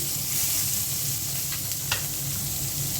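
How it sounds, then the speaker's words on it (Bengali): Chopped onions sizzle steadily in hot oil left from frying fish, with a constant crackling hiss and a few light stirring scrapes. "এখন মাছ ভাজা তেলের মধ্যে আমি পেঁয়াজ কুচি দিয়ে দিচ্ছি"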